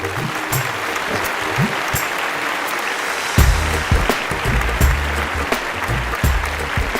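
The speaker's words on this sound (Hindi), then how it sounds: "जोरदार तालियों के साथ मैं इस्तकबाल करूंगी" Festival audience applause at the Jashn-e-Rekhta Urdu literary event, as a well-known lyricist and poet is welcomed onstage: sustained, dense clapping from a large crowd over a low musical hum.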